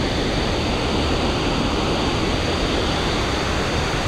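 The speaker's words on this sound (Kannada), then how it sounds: "ನನಗೇನೋ ಸೌಂಡ್ ಬರ್ತಾ ಇದೆಯಲ್ಲ ಅಂತ ಅಂದ್ಕೊಂಡೆ, ಬಟ್ ಸಖತ್ತಾಗಿ ಬರ್ತಾಯಿದೆ ನೀರು" Water rushes loudly and steadily in a fast-flowing stream at Kote Betta near Madikeri, a dense, unbroken roar close by with no voices.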